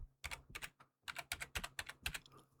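Quiet clicking of keys on a computer keyboard, two short clusters of keystrokes followed by a quicker run of about a dozen taps, close and alone.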